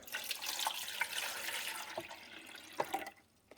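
Vinegar pours and splashes into the back water reservoir of a Keurig K-Duo coffee maker for a few seconds, with gurgles and drips, then trails off into quiet.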